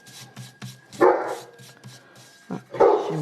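A dog barks repeatedly in short bursts indoors, some barks louder and closer, the rhythm irregular, alone without talk.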